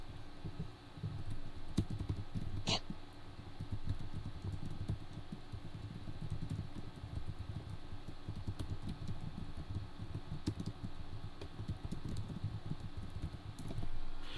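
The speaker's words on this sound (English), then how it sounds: "I was just typing in chat" Someone types on a computer keyboard while chatting on a live stream: a rapid, uneven patter of soft key clicks runs throughout over a steady low background hum, with no talking.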